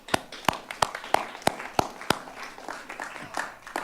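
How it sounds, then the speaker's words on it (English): Scattered claps at a community college board of trustees meeting, a handful of sharp, fairly close hand claps at the start thinning into softer, irregular clapping and rustle. "That deserves a round of applause."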